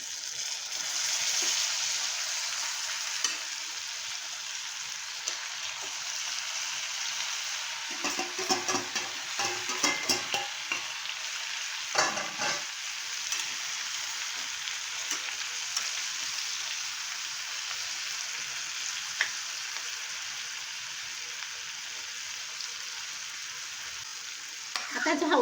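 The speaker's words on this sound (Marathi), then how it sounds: "वांगी आपण सोडूया." Stuffed brinjals filled with dry prawn masala fry and sizzle steadily in hot oil, with a continuous hiss and occasional scraping stir strokes around the middle, close and fairly loud, no voices.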